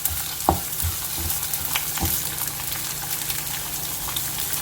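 Chopped onion frying in oil in a pot while cooking chicken haleem, a steady close sizzle with occasional stirring clinks and scrapes, no talking.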